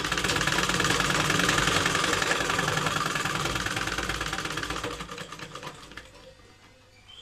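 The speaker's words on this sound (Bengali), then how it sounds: "এখান থেকে সেলাইটা করে নিব।" A sewing machine stitches a hidden pocket into a salwar with a rapid, even mechanical rattle close by, running loud for several seconds before slowing and stopping.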